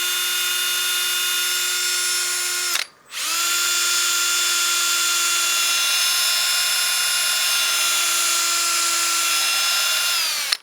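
Wood lathe spinning a wooden bowl during fine 600-grit sanding: a loud, steady high-pitched whine with a brief dip as the machine slows and resumes, then a continuous drone until it spins down at the end.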